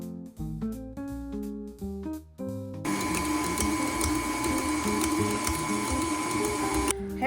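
An electric stand mixer whirs steadily at a higher speed as it beats no-bake Oreo cheesecake filling, a dense broadband mechanical drone that is loud and continuous after a few quieter stop-start moments at the beginning.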